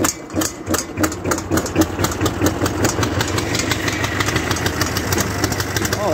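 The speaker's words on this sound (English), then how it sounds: "Give it some throttle. Ignition on. Hit the starter." A Fordson Major E27N tractor engine cranks over and catches, settling into a loud, lumpy, rhythmic idle with steady knocking pulses close by; no talk over it.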